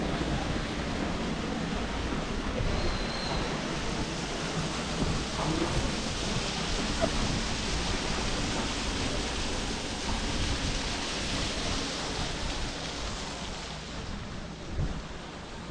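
Heavy rain pours steadily in a village, a dense continuous roar of water that stays loud and unbroken, with a brief louder splash near the end and no voices.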